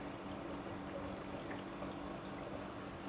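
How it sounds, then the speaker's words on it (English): Water drains steadily from a gutter bed after its pump has been switched off, a faint, even trickle and pour that runs without a break and carries no voices. "You can see the water is draining"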